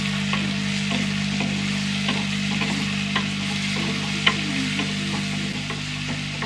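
Onions sautéing in a pan for a Kerala-style dish, a steady, close sizzle with occasional stirring scrapes running throughout, with no voices.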